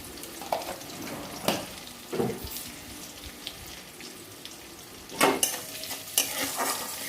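Bay leaves and black cumin sizzle in hot oil under a soft continuous hiss, broken by several bursts of louder crackling and clattering stirs in the pan.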